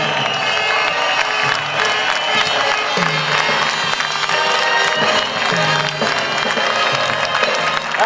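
Large rally crowd cheering, whooping and applauding for driver Petter Solberg at Rally Italia Sardinia, a loud continuous roar with music underneath throughout.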